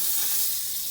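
Butter sizzles steadily on a preheated tawa griddle, a close, bright hiss holding level for the full second with no voices.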